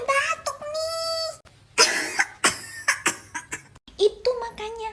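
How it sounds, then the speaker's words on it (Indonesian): A child with a worsening cough gives several sharp coughs in close succession, mixed with short bursts of a voice speaking, loud and close. "aku makin batuk nih"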